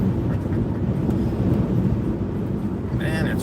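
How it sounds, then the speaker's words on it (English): Strong wind buffets the microphone outdoors in a steady, loud low rumble throughout, with a brief higher whine near the end. "man, it's windy"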